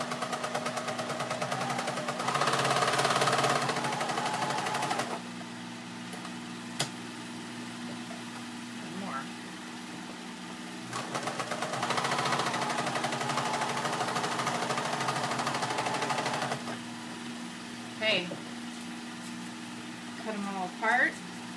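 A sewing machine stitching denim from old jeans runs in two long, steady bursts of loud, buzzing whir, separated by quieter stretches with faint handling, and a voice speaks briefly near the end.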